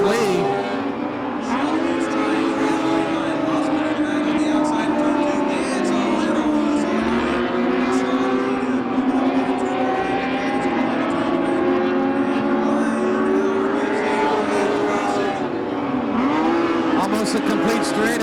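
USAC midget race cars roar around a track, a dense, continuous engine drone with rising and falling pitch as cars pass, while a race commentator talks over the noise throughout.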